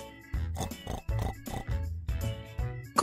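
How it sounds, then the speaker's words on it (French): A farm pig grunts and oinks in a run of short, close, rhythmic snorts, about half a dozen in quick succession with brief gaps, and no talking over them. "Cochon."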